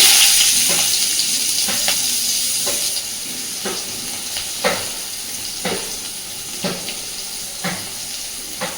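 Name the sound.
chopped onion frying in hot oil in a wok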